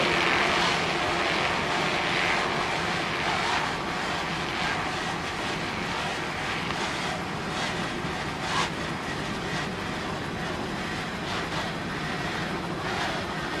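Engine of a 32-foot Douglas skater racing boat at a 1995 powerboat race, a loud continuous roar with broadband spray and wind noise that swells and eases as the throttle works.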